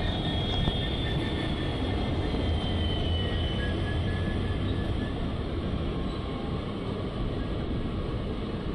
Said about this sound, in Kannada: ನಮ್ಮ ಟ್ರೈನ್ ಈಗ ಕೊಪ್ಪಳ ರೈಲ್ವೆ ಸ್ಟೇಷನ್ಗೆ ಎಂಟ್ರಿ ಆಗ್ತಿದೆ,